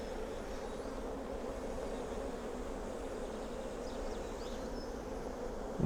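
Honey bees buzzing as a steady, dense drone while they are knocked into a hive during a large split, with a brief thump at the very end and no talk.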